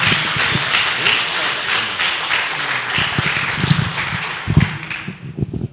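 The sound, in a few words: applause in church for the Lord Jesus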